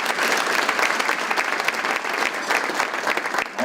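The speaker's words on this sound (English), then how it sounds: "Would you give a round of applause for that team?" Banquet audience at a YMTF opening session gives the organizing team a round of applause, dense and continuous clapping from a sizable crowd, fairly loud throughout.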